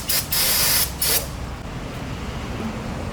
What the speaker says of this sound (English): just use a little bit of your brake clean to get rid of any of the excess fluid